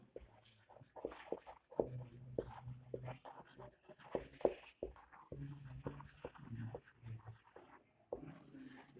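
Writing during a physics revision class on converting a galvanometer to an ammeter, faint irregular scratches and taps in short bursts, with a low hum and quiet background voices underneath.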